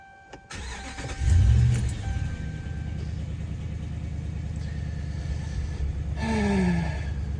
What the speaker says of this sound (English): let us start the car again